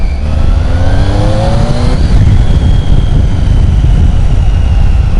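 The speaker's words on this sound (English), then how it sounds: "see if I can get a bit more of the engine noise for you guys" A Triumph Tiger 800 XCA motorcycle engine runs and revs loudly up close, pitch climbing then settling, with heavy wind buffeting over it.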